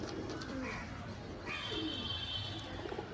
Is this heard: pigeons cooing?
yes